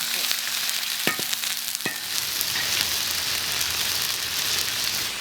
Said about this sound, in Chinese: 先用这个油炒一下